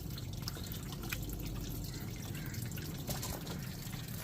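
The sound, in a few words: rinsing tumblers with water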